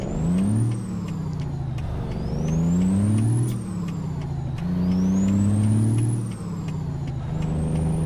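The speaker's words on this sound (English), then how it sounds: "that's trailer brakes, but it's not working" Truck trailer air brakes in the American Truck Simulator video game hiss loudly in repeated bursts over a steady engine drone, with rising pneumatic whistles and a few reversing-style beeps recurring across several cycles.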